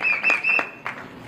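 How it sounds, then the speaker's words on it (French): Wedding guests clapping for a brief moment, a short burst of applause under some voices. "Est-ce qu'on peut applaudir très fort pour la sœur?"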